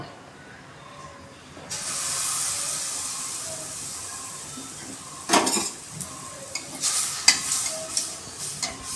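Mango malpua batter hits a hot kadai with a sudden, steady frying sizzle and hiss, later joined by a few clinks and scrapes of a utensil against the pan.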